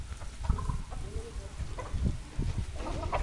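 Chickens cluck in short, scattered bursts around a farmyard flock that includes a rooster, with low handling noise and background rustle underneath.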